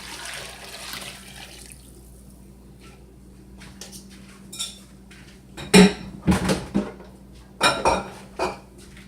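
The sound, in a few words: washing hands under running tap water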